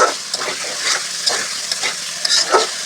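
Sliced bitter gourd fries with green chillies in a pan, giving a loud, close, continuous sizzle and crackle broken by quick stirring scrapes.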